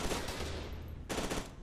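Gunfire aimed at the player in Fear 2 on Xbox 360: a fast, dense rattle of automatic shots, fairly faint, with a brief pause before a second burst.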